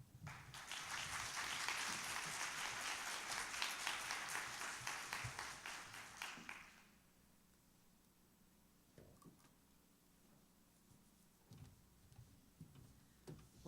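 An audience at a conference session applauds for about seven seconds, a broad, steady wash of clapping that fades out, followed by faint taps and rustles in a quiet room.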